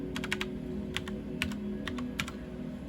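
Steady clicking of computer keys being typed, quick irregular bursts of keystrokes close by over a faint background hum.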